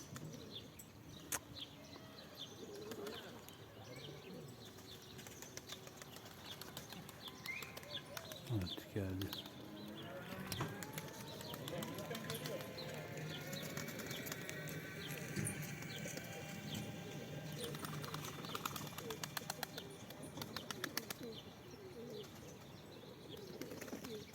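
Young pigeons coo softly and wings flutter in short bursts, with people talking nearby throughout.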